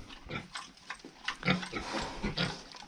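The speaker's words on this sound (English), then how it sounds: "her pigs will eventually go over there and nurse off them other pigs as well" A sow nursing piglets in a farm pen makes a run of soft grunts and snuffling oinks, several overlapping close by at an uneven rhythm, with no talking.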